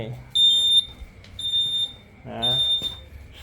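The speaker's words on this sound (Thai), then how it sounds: "มีเสียงบัสเซอร์นะครับ" Three repeated high electronic beeps from the turn signal buzzer of a REHA TECH electric senior mobility vehicle, each about half a second, spaced about a second apart, with faint background noise between them.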